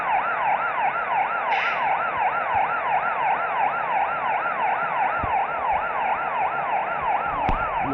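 A police car siren wails at a busy toll plaza on an expressway, a loud, fast-cycling yelp repeating steadily over the hum of traffic, with no voices.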